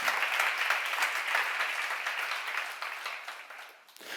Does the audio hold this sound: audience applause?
yes